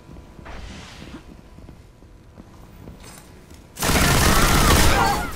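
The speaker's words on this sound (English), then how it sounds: "He got me with a shotgun." Loud, sudden shotgun blast in the video game Destiny during a Skirmish match, a broadband burst that hits late and holds for over a second after quieter ambient gameplay sounds and faint footsteps.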